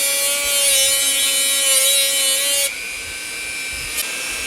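A wooden stump being sanded, heard as a loud, steady machine whine with a rough grinding hiss that stops abruptly partway through, leaving a quieter hum and a brief tap.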